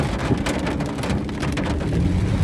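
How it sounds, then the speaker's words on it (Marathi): Heavy monsoon rain pours down steadily in the Tansa wildlife sanctuary forest, a dense hiss of drops drumming on surfaces with a low rumble beneath, no voices. "तुफान पाऊस इथे न नेहमी असतो"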